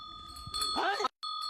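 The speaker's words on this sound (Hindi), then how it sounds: "घंटी की आवाज कहाँ से आ रही है?" A small bell rings out in a short bright burst, sounding like a bicycle bell, with a voice briefly overlapping before a sudden cutoff and a sustained tone returning.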